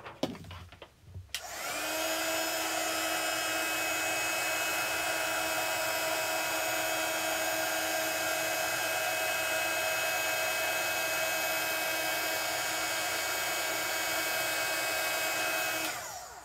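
Heat gun warming embossing powder on a stamped card: after a faint clatter, a loud, steady blowing whoosh with a high whine starts up and runs unbroken to the end.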